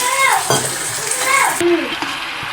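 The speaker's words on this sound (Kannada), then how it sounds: "ಇವಾಗ ಏನೈತಿ ಒಂದು ಸ್ವಲ್ಪ ನೀರು ಹಾಕೊಂಡ್ಬಿಡ್ಬೇಕು." A splash of water goes into Gobi Manchurian sauce in a hot pan and loud sizzling and stirring follow, with a voice talking over the frying.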